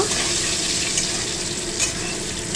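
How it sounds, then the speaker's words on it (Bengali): Potatoes fry in hot oil in a wok for aloo dum, a steady dense sizzle with crackling that carries evenly throughout, fairly loud and close, with no voices. "আমি কড়াতে আলুটা ভেজে নিলাম"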